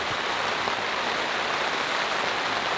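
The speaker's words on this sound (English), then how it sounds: "out in the forest underneath a tarp in the rain" Heavy rain pours onto a tarp in a forest, a loud, dense and unbroken hiss of drops drumming on the sheet overhead, steady throughout with no voices.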